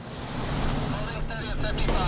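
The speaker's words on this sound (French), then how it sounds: "la pluie redouble d'intensité" Heavy rain pours down during an outdoor truck test, a dense, steady rushing roar with a windy wash that fills the whole moment, and a voice faintly mixed in.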